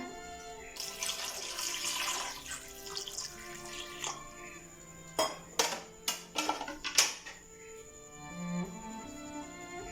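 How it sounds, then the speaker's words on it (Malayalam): Water is poured into a cooking pan holding nendran plantain and pumpkin, a brief splashing gush followed by several sharp clinks and clatters of utensils against the pan, with a faint tonal hum behind. "ആവശ്യത്തിന് വെള്ളം ഒഴിച്ചിട്ട്"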